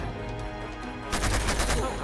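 A gunfire burst in the action game Uncharted 2: Among Thieves lands as a headshot, a rapid rattle of close, loud shots erupting partway through over steady game background noise.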